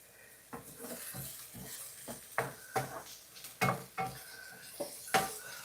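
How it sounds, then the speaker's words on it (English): Vegetables for a vegan turkey, potato and stuffing casserole are stirred in a pan, giving repeated scraping clatters of a utensil against the pan, roughly every half second, over a low sizzle, with no talking. "I'm going to saute this up nice and pretty."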